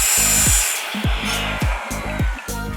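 A loud, continuous power saw whine with repeated harmonic bursts and sharp tonal sweeps, cutting bathroom wall cladding panels steadily with brief pulsing changes in pitch.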